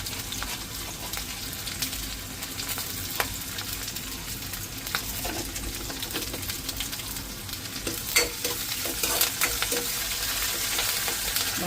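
Onions sauté in a pan with curry leaves and cumin seeds, giving a continuous close sizzle and crackle with occasional sharp utensil clicks and scrapes.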